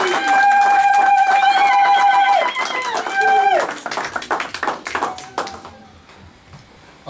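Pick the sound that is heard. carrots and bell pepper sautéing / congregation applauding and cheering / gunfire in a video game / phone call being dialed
congregation applauding and cheering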